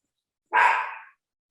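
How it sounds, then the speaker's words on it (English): A single sharp bark from a ten-week-old puppy, one close, bright yip that rises abruptly and tails off within about half a second, standing alone in silence. "I think your dog's a ventriloquist"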